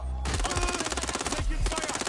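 Rapid automatic gunfire rattles in Watch Dogs Legion, loud and close: a dense string of shots, a brief break, then another burst, all under low rumbling impacts.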